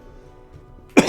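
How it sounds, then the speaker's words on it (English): A single sharp cough breaks a near-quiet background right at the end, close and loud. "Sorry about the coughing."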